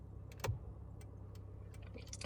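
A 2010 Kia Forte's turn signal ticks quietly, a few faint clicks in quick succession over a low idling hum, with no voices.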